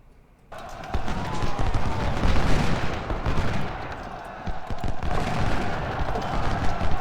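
Heavy gunfire erupts during a convoy ambush in a war video game, a dense, loud barrage of shots and booms that starts abruptly and keeps going, with a slight lull midway.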